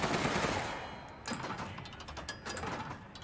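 A cannon fires in the Resident Evil Village video game during the Mother Miranda boss fight. Two heavy, booming blasts ring out over a loud, rumbling, noisy background, the second about a second after the first.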